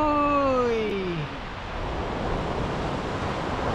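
Surf rolling onto Casapsapan beach in Aurora with fairly strong waves, a steady broadband wash close to the microphone, mixed with wind noise and a brief faint tonal whine near the start.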